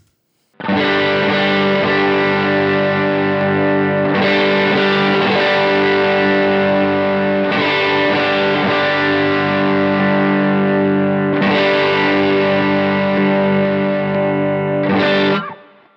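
Heavily overdriven electric guitar through stacked Browne Protein and JHS Double Barrel overdrive pedals plays sustained, saturated chords, restruck a few times and ringing long between hits, loud and close.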